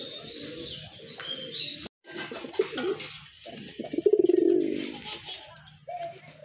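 Domestic pigeons coo up close in a pen for sale, low throaty rolling calls repeated a few times, with faint chirps and brief handling noise between them.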